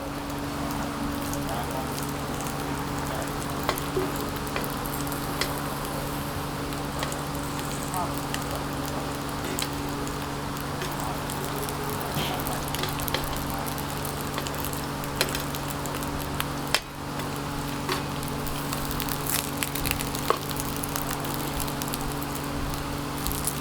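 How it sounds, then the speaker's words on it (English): Corn kernels frying in a pan over a high flame, a steady crackling sizzle with scattered pops and ticks throughout, heard up close, with a low hum underneath. "So I'm flipping the corn occasionally just to make sure it doesn't stick to the pan."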